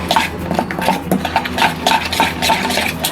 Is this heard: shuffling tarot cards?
no